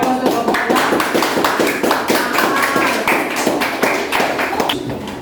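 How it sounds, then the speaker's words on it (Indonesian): Students in a classroom clap for their teacher, a close, rapid patter of many hands that stays steady for several seconds before easing off. "beri aplaus untuk Bapak"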